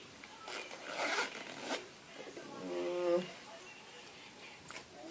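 A two-sided zipper on a card-holder wallet is pulled open in a couple of quick, scratchy strokes close by, with someone speaking quietly around it.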